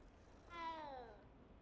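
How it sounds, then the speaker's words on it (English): A single short, odd-sounding meow from a nearby cat, rising and bending in pitch for about half a second over quiet background. "The cat just had the most awkward meow I think I've ever heard."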